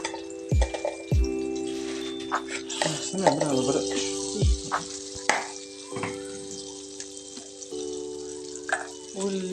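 Butter heating in a pan with a pinch of coriander and cumin sprinkled in, a soft steady sizzle broken by a few sharp clinks and utensil knocks, close and fairly quiet with no talking.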